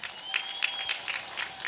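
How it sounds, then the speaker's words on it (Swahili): Crowd at a campaign launch rally in Tanzania applauding, a steady wash of clapping with a few sharper claps and a faint high whistle-like tone running through. "Hebu makofi mengi sana kwa mwanasheria mkuu wetu."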